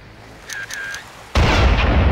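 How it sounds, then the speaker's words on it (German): Enemy gunfire in Far Cry, a sudden loud, sustained blast of noise that follows a few faint whistling tones and a quiet lull. "Er hat gerade geschossen"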